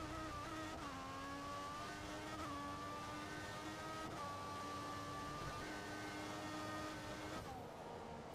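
Formula 1 engines from the F1 2014 racing game, a Ferrari and a Honda, scream steadily at high revs through the whole stretch, with brief dips where gears shift and the pitch climbs again, loud and continuous with no talk.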